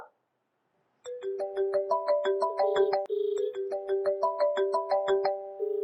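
A melodic phone tune plays on an outgoing call during a Telugu call-in contest show: bright repeating chime notes cycle twice after a brief silence, clear and alone.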